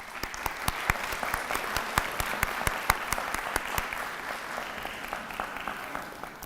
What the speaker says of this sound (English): Let's please recognize them by giving them a round of applause at this time.